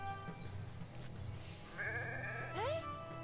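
Sheep bleating in the Renowned Explorers game, a couple of quavering calls in the later part, the last one louder, set against constant background music.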